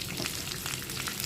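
Chili powder and green chilies fry in a hot pan, giving a steady, close crackling sizzle that carries on without a break and with no talk.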